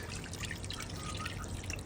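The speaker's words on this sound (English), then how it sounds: "Add some more water to this here" Water is added to a pot of curried oxtail cooking with pumpkin and bananas, a faint, brief trickling and dripping pour heard quietly on its own.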